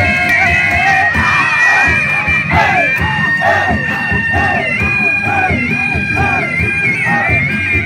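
A crowd cheers, shouts and claps at a village carnival in Desa Cigugur Girang, Indonesia, a dense, loud wash of voices with children's yells rising throughout, steady over a rumbling background.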